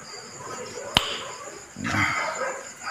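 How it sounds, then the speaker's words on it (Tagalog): A dog barks once or twice nearby, short sharp yaps amid low room noise and faint background voices. "medyo maingay yung aso"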